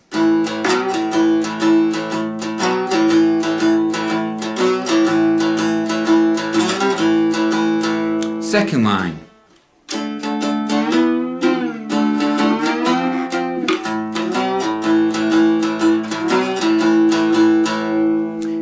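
Twelve-bar blues lines on a two-string cigar box guitar, bright plucked notes in a steady groove, broken by a short slide and a near-silent gap before the playing resumes, with a brief spoken phrase.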